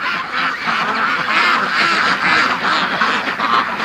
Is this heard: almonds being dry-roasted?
no